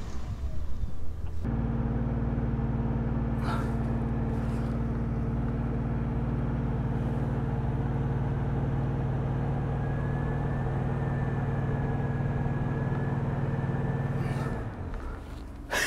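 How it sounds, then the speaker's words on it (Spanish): A Ford Lobo 4x4 pickup drags another vehicle that has its emergency brake set. A steady, close, low engine drone holds for about fifteen seconds before easing off. "El vehículo de atrás tiene el freno de emergencia puesto y aún así lo estoy arrastrando."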